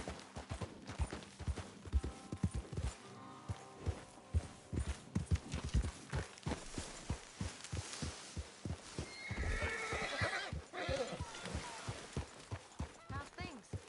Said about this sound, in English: what's that horse doing